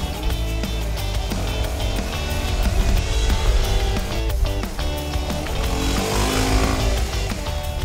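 Kawasaki Z motorcycle ridden through a tight, twisty gymkhana course, its engine droning steadily and loudly with rising and falling revs as it weaves, close and continuous without pause.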